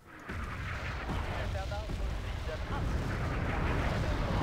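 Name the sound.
rockets and artillery shells hitting a base in Wargame: Airland Battle video game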